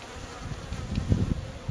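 Buckfast honey bees buzz steadily in an open hive during a spring check, a close, continuous drone with slight swells in loudness.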